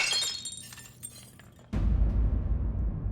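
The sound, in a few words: glass of water dropped and shattering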